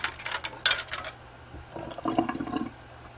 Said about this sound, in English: I'm going to pour a little of this water out.